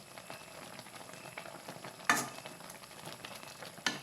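Fish with malunggay leaves sautéing in a pan, a steady faint sizzle carrying brief louder stirring scrapes near the middle and end, with no voices.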